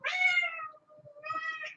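A cat meows twice, close and clear, with a short pause between the two drawn-out calls and nothing else audible.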